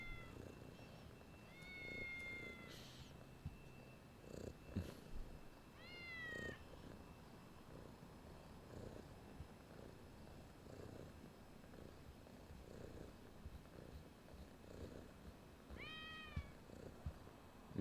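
Kittens being petted, a soft continuous purring bed with a few high, clear meows rising over it at scattered moments, fairly faint and close.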